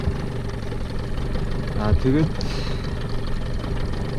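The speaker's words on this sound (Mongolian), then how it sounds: "мотороо халаагаад" A boat outboard motor idles while warming up, a steady mid-pitched chugging hum held at an even level throughout, with someone speaking briefly over it.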